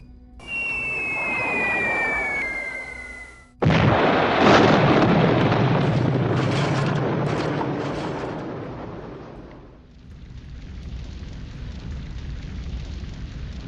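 Bombs from a B-17 Flying Fortress explode in a sudden loud blast after a droning whine, then a long rumbling roar of debris that slowly fades into a lower sustained rumble.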